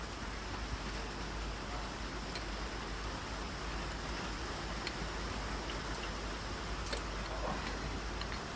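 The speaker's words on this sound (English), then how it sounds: "The rain's really coming on now." Heavy rain pours steadily during work on a stuck injector in a VW 2.0 TDI CFFB diesel engine, a dense, even hiss with scattered drop ticks throughout, fairly loud and continuous with no talk.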